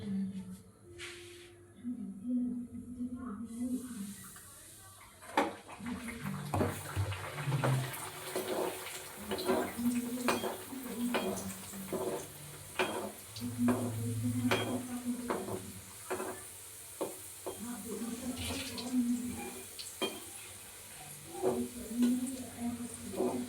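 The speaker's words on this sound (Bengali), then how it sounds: "তেলটা গরম হয়ে গেছে আমি এবার বেলে নিয়েছি একটা একটা করে সব দেখো ভেজা নেবো" Pea-filled kachori puris slide one by one into hot oil and fry with a steady sizzle and occasional bubbling splashes, while a voice talks over most of the cooking.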